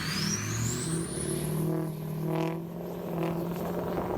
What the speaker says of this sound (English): And that exhaust note is just...